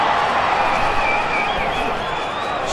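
A stadium crowd in a Rugby Challenge match between the Reds and Blues roars in a dense, continuous wash of cheering that holds at loud level throughout.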